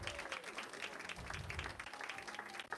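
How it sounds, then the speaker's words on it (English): Wedding guests at a reception clap together for a visiting couple from England, a steady, fairly faint patter of applause that runs without a break. "Please, round of applause for them."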